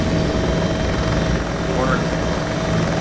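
A helicopter in The Damned II drones on steadily and loudly with a constant rotor thrum, a voice speaking over it.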